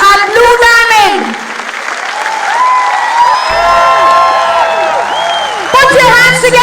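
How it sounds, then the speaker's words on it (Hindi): An audience at a stage programme applauds loudly and without a break to welcome a speaker, with music and an announcer's voice carrying over the clapping. "Put your hands together"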